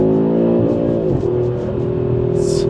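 A 2025 Audi RS3 facelift's five-cylinder engine downshifting, a loud close droning growl with a pitch that drops and steadies as the gear changes, heard from inside the car without talk.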